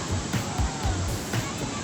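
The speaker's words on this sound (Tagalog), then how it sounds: "Kasi malakas yung alon ngayon dito, guys." Strong surf at Bagasbas Beach under an overcast sky at high tide, a constant roaring wash with low rumbling surges and wind buffeting the microphone.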